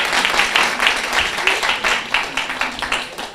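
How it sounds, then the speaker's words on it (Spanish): Audience applause after a talk on geospatial tools for air quality, a steady wash of many hands clapping at moderate volume throughout, with no voices over it. "Así que reclamo los aplausos."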